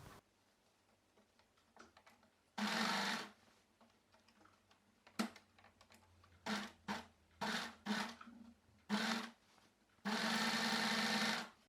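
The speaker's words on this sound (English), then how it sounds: "Fold the fabric to make a straight line and then continue sewing." A sewing machine stitches along the edge of lilac fabric in several bursts, two long runs and a quick series of short ones, with quiet pauses and faint handling sounds between them.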